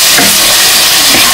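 Fried eel fish are added to a spiced masala in a hot pan and set off a loud, close, continuous sizzle and frying hiss, with brief stirring scrapes underneath.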